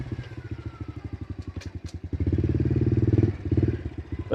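A 2021 Honda CRF110 110cc kids' dirt bike engine in first gear chugs in rapid pulses, then revs up louder and holds before easing off, close by.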